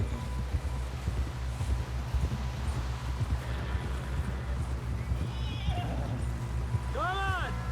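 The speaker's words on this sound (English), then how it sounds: "Someone help John down off this horse" Horse in Red Dead Redemption 2 with steady, rapid hoofbeats throughout and a loud whinny near the end, close up, with voices speaking over the hooves.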